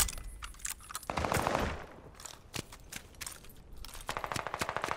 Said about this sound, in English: They in the back shooting.